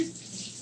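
Tap water runs steadily into a sink during handwashing, a continuous close hiss at moderate level with no talking over it.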